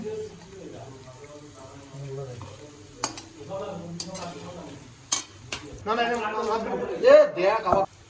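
A spoon stirs spices such as turmeric, cumin and dried chilli into a gravy for hilsa biryani, with scraping and soft sizzling in a pan under steady Bengali talk.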